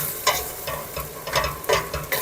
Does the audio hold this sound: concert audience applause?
no